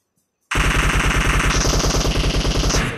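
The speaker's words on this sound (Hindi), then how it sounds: "गॉडज़िला ने गोलियां चलाई है," Automatic gunfire in a PUBG tournament match rattles in a long, rapid, loud burst that begins abruptly after a brief silence and continues steadily to the end.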